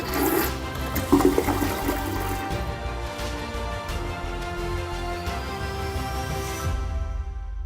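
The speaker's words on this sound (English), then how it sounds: "modern toilets use a gravity-based flush system" A gravity-based toilet flushes with a loud, sustained rush of water that swirls and drains for several seconds, then tapers toward a quieter refill trickle at the end; no voices.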